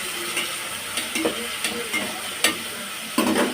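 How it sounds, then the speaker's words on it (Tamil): Oil sizzles in a frying pan as ingredients are sautéed, a steady close hiss broken by several scraping stirs of a spoon against the pan. "இதை நல்லா வதக்கிக்கலாம்."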